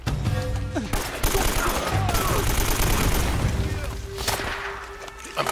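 Rapid bursts of automatic gunfire and scattered shots in the video game Uncharted: Drake's Fortune, crackling almost continuously across several seconds with brief gaps between volleys.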